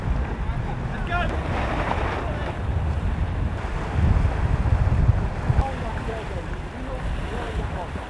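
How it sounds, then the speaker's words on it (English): Wind buffets a racing sailboat during the Middle Sea Race, a steady broadband roar with water rushing along the hull and a gust swelling near the middle, while crew voices come through faintly underneath. "A lot of bad wind there"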